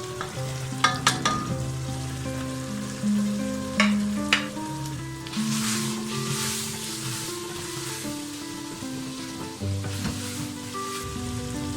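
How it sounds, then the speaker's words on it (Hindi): Masala for palak gobi gosht sizzles and fries steadily in a pan, with a few sharp clinks of a spoon stirring against the metal; no talking. "इस मसाले को आप अच्छे तरीके से भून लें"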